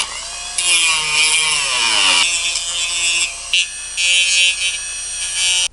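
A power drill boring a hole for a DIY 12-volt camping shower water pump, a loud high whine that rises and falls in pitch through several bursts, with brief pauses between them.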